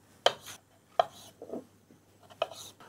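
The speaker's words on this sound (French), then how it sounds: "On va pouvoir déposer nos girolles que je vais couper en morceaux." A knife cuts chanterelle mushrooms into pieces on a board, giving sharp, close chopping strokes at an uneven pace, each followed by a short scraping rustle, with no one talking.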